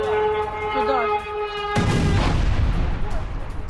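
Explosions from Russian attacks on a Ukrainian port city: a steady tonal hum gives way to a sudden loud broadband blast, followed by rumbling, crackling aftermath.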